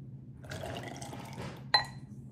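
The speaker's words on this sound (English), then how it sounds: "I'm gonna pour it into this glass so I can show you guys the milk color." Leftover cereal milk from a Trix bowl poured into a glass, a soft close trickle and splash, ending in a brief sharp clink of glass.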